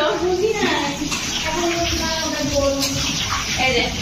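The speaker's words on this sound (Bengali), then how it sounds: "এটা চালটা আমি ভালো করে এখন ধুয়ে নেবো" Running water splashes and swirls as rice is rinsed, with voices murmuring in the background.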